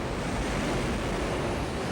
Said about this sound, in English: Monster waterspout.